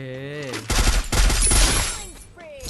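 Rapid gunfire in the Free Fire battle royale video game, a dense close burst of shots lasting about a second and a half, with game tones before and after.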